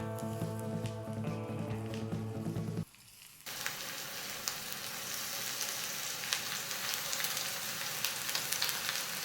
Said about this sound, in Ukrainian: масло нагрілось, додаю гливи